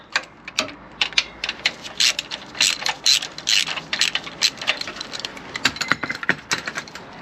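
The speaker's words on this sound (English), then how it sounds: "So let's get this ratchet in there, take a little bit more tension off." Ratchet clicking on the belt tensioner of a Nissan 350Z engine, a close, steady run of sharp pawl ticks in quick bursts with brief pauses, heard alone without talk.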